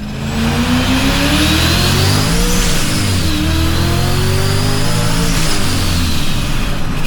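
A car engine revs hard through a full acceleration pull after a new intercooler is fitted, its pitch sweeping steadily upward in a loud, continuous, close roar with no talking.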